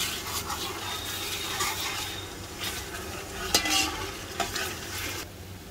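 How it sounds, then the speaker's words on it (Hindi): Garlic frying and being stirred in a large pot while cooking mutton paya, a steady soft sizzle with scraping stir strokes and a couple of sharper clinks, close and fairly quiet, with no talking. "लहसुन मैंने भून लिया है अच्छे से"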